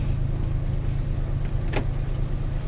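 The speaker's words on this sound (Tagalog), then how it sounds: "dito na tayo ngayon sa sasakyan" Inside a car, a low, constant engine hum fills the cabin, with one short sharp click partway through and no talking.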